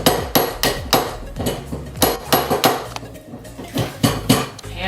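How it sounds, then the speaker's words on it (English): A silversmith's rawhide mallet strikes silver metal in a steady, quick series of about a dozen close, bright knocks with a short metallic ring after each, heard alone. "hammer with the rawhide mallet"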